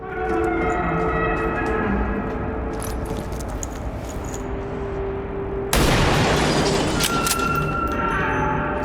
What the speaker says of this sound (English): we'll just start taking shots with our sharpshooter